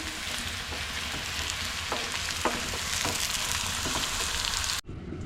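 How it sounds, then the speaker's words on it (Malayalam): Sliced onions frying in hot oil for Kerala-style beef biryani, a steady dense sizzle with faint stirring knocks, close and continuous until it cuts off abruptly near the end. "ആ എണ്ണയിലേക്ക് തന്നെ ഞാൻ അരിഞ്ഞു വെക്കുന്ന സവാള ഇട്ട് കൊടുത്താൽ അത് നമുക്ക് നന്നായിട്ട് ഫ്രൈ ആക്കി എടുക്കണം"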